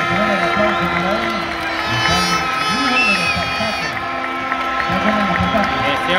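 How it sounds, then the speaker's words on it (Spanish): Stadium crowd at a Barcelona farewell friendly at Estadio Folke Anderson applauding the goalkeeper, a steady broad wash of clapping and cheering under a loud announcer's voice throughout. "El aplauso para él."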